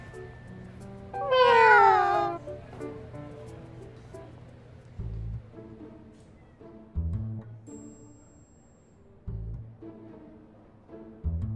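A cat lets out one loud, drawn-out meow near the start, followed by quieter thumps and rustling over a low steady hum.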